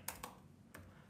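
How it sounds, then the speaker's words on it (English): Three quick clicks of keys on a computer keyboard, typed while working in bridge design software, crisp and close, with a short pause before the last press and no voices. "I'll type here H, and then modify"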